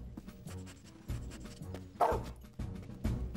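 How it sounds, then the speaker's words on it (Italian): A cartoon dog barks several times in short bursts, spaced irregularly, at moderate distance with a faint whimpering quality between barks. "Io sento un cane abbaiare."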